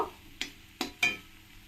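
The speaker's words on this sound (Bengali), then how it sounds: "আমি এবার একটু ভালোভাবে নাড়িয়ে দেব" Spatula stirring taro leaf greens in a pan, three separate scraping strokes spaced apart, close and fairly quiet with a faint background between them.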